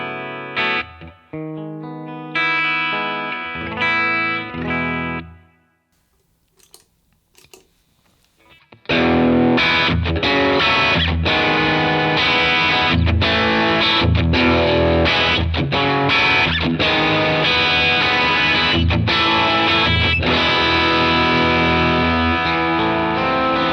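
Electric guitar plays a few clean ringing chords, pauses, then returns loud and saturated through a Browne Amplification Carbon X dual overdrive with both sides stacked, chugging dense distorted riffs continuously.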